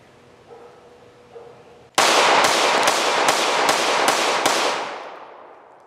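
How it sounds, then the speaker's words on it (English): Seven sharp gunshots from a Shadow Systems CR920P compact high-capacity pistol fire in quick succession, loud and close, each cracking over the ring of the last, with a fading tail after the final shot. "it's a good shooting gun"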